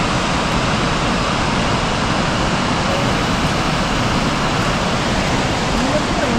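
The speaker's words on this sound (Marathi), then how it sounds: "आणि खाली नदी वाहते पूर्ण" The Saraswati river rushes below Bhim Pul near Mana village. It is a loud, steady, broad roar of flowing water with no pause throughout.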